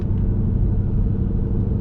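2024 Ford Mustang GT with its 5.0 V8 rumbles steadily from inside the cabin while driving, a dense low growl holding level throughout with no voices.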